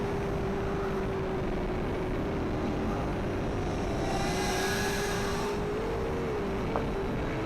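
A small DM007 spy quadcopter drone carrying a 2MP camera drops in a rapid descent with its throttle cut, a steady buzzing whine that holds loud and even, then briefly rises in pitch near the end, with no talking.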